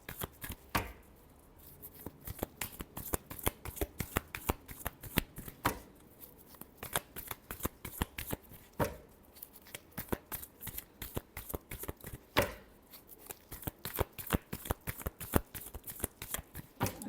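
Tarot cards shuffled by hand in repeated bursts of crisp riffling, close and clear, with brief pauses between rounds and no talking.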